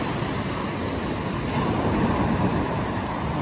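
Sea waves wash steadily onto the shore at Lowestoft North Beach on the Suffolk coast, a constant broad rushing surf with no distinct breaks and no voices.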